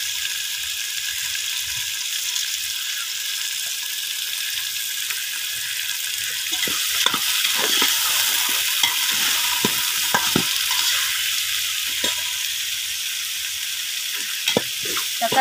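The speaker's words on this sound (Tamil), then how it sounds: "தக்காளி நல்லா வதங்கட்டும்." Tomatoes fry in a pan with a loud, continuous sizzle, while repeated scraping stirs grow busier toward the end.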